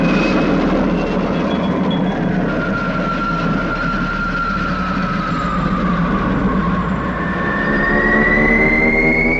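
A spaceship lifting off as a sound effect: a loud, continuous roaring rumble with whining tones that slowly rise and fall, sustained throughout without voices.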